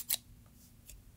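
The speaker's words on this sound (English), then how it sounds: "Probably shouldn't throw scissors" A pair of scissors is tossed and lands with a sharp metallic clack, followed by a fainter second clatter a moment later, close by against a quiet background.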